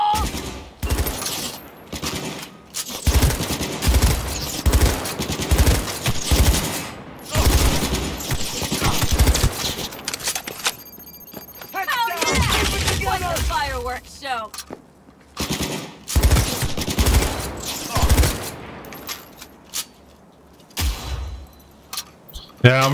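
Repeated bursts of gunfire in Cyberpunk 2077, loud and close, firing in uneven clusters with brief pauses between volleys, while someone talks over the shooting.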